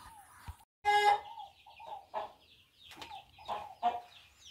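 Hens cluck in short irregular bursts near the nests of a farm coop, close and fairly loud, with quiet gaps between calls.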